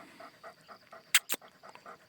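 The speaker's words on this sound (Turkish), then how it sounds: "Çok iyi bir anne, çok iyi bir köpek, çok iyi bir dost." A heavily pregnant female dog pants quickly and rhythmically nearby, with a couple of sharp clicks cutting through midway.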